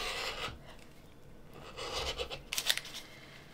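Scissors snip around fabric pieces for a foundation paper pieced quilt block, giving soft close cutting and rasping strokes that grow a little louder near the end, with no talking.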